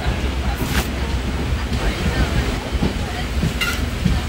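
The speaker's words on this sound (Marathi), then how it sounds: "रत्नागिरी स्टेशनवरून ट्रेन पण सुटलेली आहे" A Janshatabdi Express train rolls out of Ratnagiri station, a steady loud rumble of wheels and carriage noise heard from inside the coach, with a few sharp clanks and brief higher rattles.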